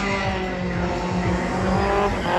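A drift car at a drift festival in Gölbaşı, engine roaring at high revs with tires squealing and skidding, loud and continuous up close.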